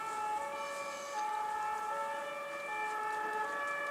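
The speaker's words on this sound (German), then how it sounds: "Sirenenorchester ist draußen, irgendetwas los." Emergency vehicle sirens wailing outside at a distance, several overlapping tones rising and falling steadily, heard from a balcony with no talk.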